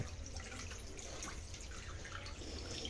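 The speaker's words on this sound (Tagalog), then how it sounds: "naririnig ko po pumupunta pa yung tubig dito" Floodwater flowing into a house during a heavy flood, a continuous low rushing and trickling wash of water with faint dripping, steady and moderately close, with no voices.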